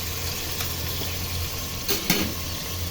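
Pork pieces fry in a pressure cooker over medium heat, giving a steady sizzle and hiss with a couple of brief stirring clatters against the pot, and no voices.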